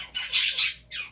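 A pet bird squawks loudly and harshly at close range, in several rough, shrill bursts over about a second, with no talk.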